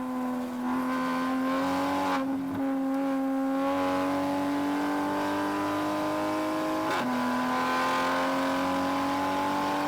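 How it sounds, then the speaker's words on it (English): Toyota Supra time attack race car accelerating out of a corner, a loud steady engine drone rising in pitch with a brief dip near the start and a sharp shift-like break near seven seconds, heard from inside. "I'm exiting that corner very gently and waiting till I've got enough speed and enough downforce to toe into the throttle."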